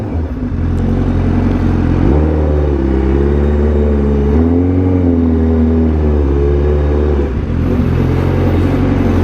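A motorcycle engine idles loudly up close, then revs up in several surges, rising and falling in pitch before settling back to a low rumble, with no voices.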